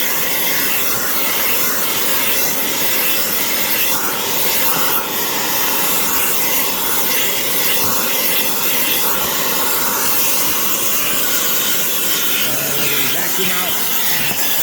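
Vacuum cleaner drawing steadily over a paint booth filter to pull off loose dust, a continuous loud broadband hiss and whine holding even throughout with no breaks.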